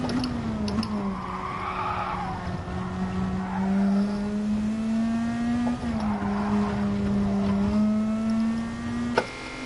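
Race cars drive in a racing video game, with a loud continuous engine drone rising and falling in pitch through gear changes and tyre squeal over two long acceleration runs.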